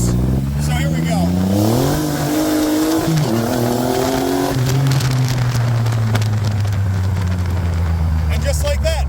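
A 2009 Triumph Rocket III motorcycle with over 130 horsepower pulls hard, its engine note climbing through a gear, dipping at the shift, then droning on loudly, with wind rush and a rider speaking briefly.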